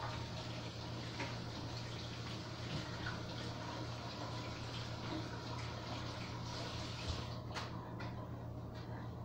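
Tap water runs steadily into a kitchen sink during hand washing, a soft continuous splashing with a faint low hum underneath and no voices.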